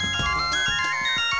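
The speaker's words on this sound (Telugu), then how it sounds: "అమ్మో డాడీ ఫోన్ చేస్తున్నారు" An incoming call from dad sets a phone ringtone going, a melodic electronic tune with repeating tones at steady moderate volume, alone without talk over it.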